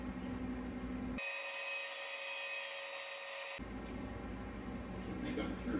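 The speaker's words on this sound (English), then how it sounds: "I'm using an 1/8 inch drill first for a pilot" A drill bores a 1/8 inch pilot hole into an LS engine water pump, a loud steady high whine for a couple of seconds, starting and stopping abruptly against quieter workshop noise.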